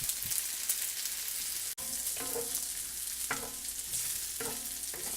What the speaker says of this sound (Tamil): இது வந்து நல்லா வதக்கணும். வேகிற அளவுக்கு ஒரு 5 மினிட்ஸாவது வதக்குனிங்கன்னா தான் நல்லா வேகும்.